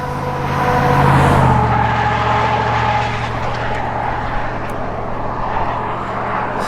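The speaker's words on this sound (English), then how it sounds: "Another car." A car on a rural road in Central New York passes close by, a loud broad engine and tyre roar that swells then slowly fades, heard during an e-bike ride.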